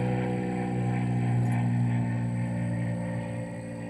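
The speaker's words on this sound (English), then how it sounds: "What have I got, a plane going over? Yeah. Little single engine. Looks like a Piper." A small single-engine Piper plane drones overhead, a steady low engine hum with harmonic tones that swells slightly and then begins to fade as it passes, heard alone at moderate distance.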